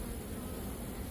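Honeybees buzzing close around an open hive during queen rearing with a Nicot cage system, a dense, steady swarm drone with no voices.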